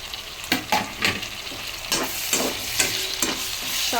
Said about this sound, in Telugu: టమాటా వేసి బాగా కలిపేసుకున్నాం కదా.